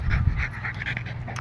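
A dog pants rapidly and close by, quick rhythmic breaths repeating steadily through the short stretch with no talk over it.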